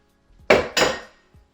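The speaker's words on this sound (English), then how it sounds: "So here we go, mixing it all together." Two scraping clanks of a utensil against a pot while noodles and cheese sauce are mixed together, close and distinct, with a faint knock after them.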